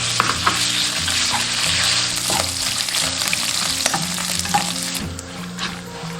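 Pork belly stir-fried in a wok over a little oil, with a loud continuous sizzle and crackle, repeated scraping and tossing of the spatula throughout, close up.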